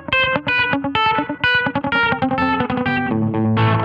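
Gritty overdriven electric guitar notes played through an Analog Alien overdrive and delay pedal ring into echoing delay repeats, a chordy riff with trailing repeats swelling at the end.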